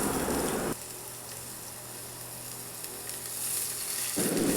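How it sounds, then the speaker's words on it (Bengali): Chopped garlic is fried in oil in a pan, a loud hissing sizzle at the start that drops to a quieter steady fizz, then swells again loudly near the end as it is stirred. "তারপর এটাকে নেড়ে চেড়ে একটু ভাজা করে নেব।"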